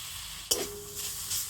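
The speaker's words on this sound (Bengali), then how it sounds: "তো নারকেলটা কড়াতে দিয়ে দিচ্ছি। আর দিয়ে দেবো গুড়।" Grated coconut and jaggery cook in a wok with a soft, quiet sizzle, broken by a sudden clink or scrape and a few faint stirring sounds, with no talk.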